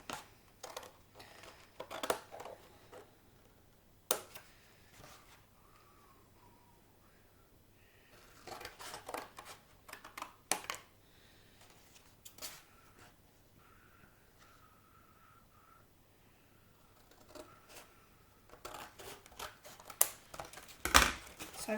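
Scissors snip a paper plate into rough thirds for a Christmas tree craft, giving soft, close, sporadic cuts in short bursts separated by quiet pauses.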